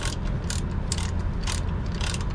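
A hand ratchet tightens a bolt on a fifth wheel RV's independent suspension, giving steady rapid clicking in short repeated strokes, close and loud.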